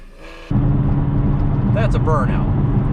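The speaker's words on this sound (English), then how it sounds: "I'll put a little clip in here of me doing a burnout in this Challenger." A Dodge Challenger doing a burnout: a loud, dense roar of engine and spinning tyres bursts in after half a second and holds steady to the end, with a brief rising squeal partway through.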